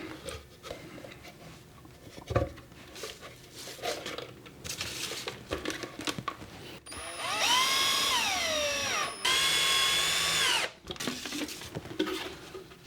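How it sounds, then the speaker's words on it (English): A power screwdriver drives bolts into a 3D-printed mold for plaster slip casting, whirring in two steady, fairly loud bursts after some scattered handling clatter. "Putting on the gasket and screwing in all those bolts took basically 15 minutes"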